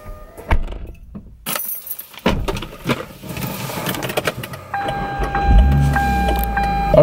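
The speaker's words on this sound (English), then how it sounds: "we're gonna let the car warm up" A car is started to warm up after a portrait shoot, with rustling, thumps and jangling keys first, then a steady idling engine hum with a whine that settles in near the mic. No speech.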